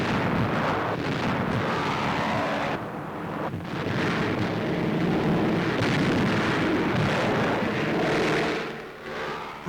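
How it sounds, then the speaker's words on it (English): Chalk bomb explosions at an army air cadet training ground boom as loud, rumbling blasts one after another, with aircraft drone and wind noise underneath in an old newsreel recording. "The explosions look like the real thing."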